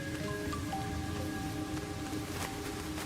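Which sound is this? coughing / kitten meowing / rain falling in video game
rain falling in video game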